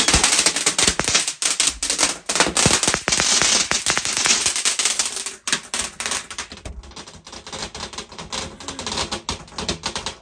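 Dense crackling bursts of New Year's Eve firecrackers in the UK popping rapidly and loudly for the whole stretch, with rattling volleys that thin out briefly before picking up again.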